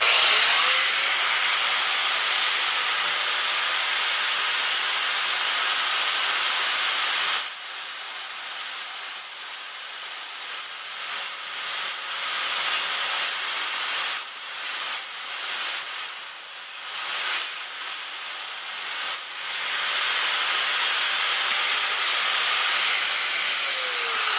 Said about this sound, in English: I got a grinder.